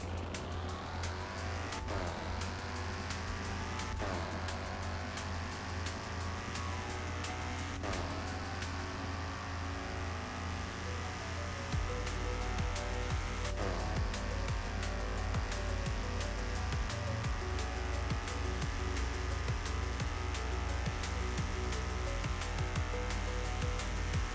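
A 4.2-liter NASCAR race car in a Roblox game, tuned for high horsepower, runs flat out on a test road with a loud, steady engine roar and repeated upshifts that climb toward top speed, with no talking.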